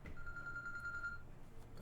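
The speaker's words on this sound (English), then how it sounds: "That's my phone." A phone rings faintly in the background as a single sustained electronic tone that fades after about a second.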